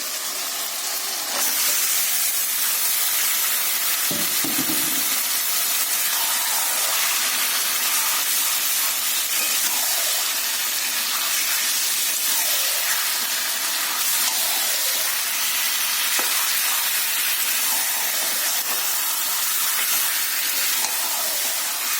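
Chicken is added to a hot pan already holding spices and green chillies. A brief thud is followed by a steady, loud sizzling hiss that carries on alone for over twenty seconds.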